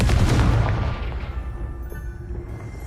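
A Confringo fire spell blast in Hogwarts Legacy lands as one heavy booming impact that decays into a rumbling tail, loud and close with no voices.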